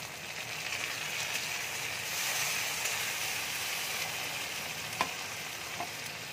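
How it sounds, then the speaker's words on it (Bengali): Tomato added to a frying tadka for green moong dal, giving a continuous soft sizzle that swells briefly, with a couple of faint utensil taps near the end and no talking. "এবার আমি টমেটোটা দিয়ে দিচ্ছি।"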